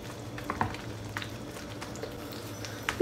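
Dough frying in a pan for a quick Turkish breakfast dish: a faint, steady sizzle with scattered light crackles and small taps, and a short louder clatter near the end, no voices.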